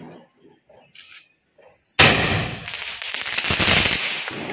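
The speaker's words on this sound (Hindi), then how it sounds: "ये स्काई शॉट देखते हैं अभी कैसा बचता है।" A sky shot firework goes off after two seconds of quiet with faint background chatter, erupting in a loud burst followed by a crackling, popping stream of small explosions that keeps going to the end.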